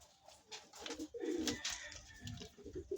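Soft, low pigeon cooing rises and falls amid other bird chatter and a faint background hiss, fairly close by, at afternoon feeding.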